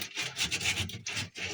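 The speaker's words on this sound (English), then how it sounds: "Okay, so here's my 100 grit sandpaper." Sandpaper of 100 grit rubbing back and forth over a corroded, soldered copper pipe beneath a sink, giving a steady, close, raspy scraping in repeated strokes with brief pauses between them.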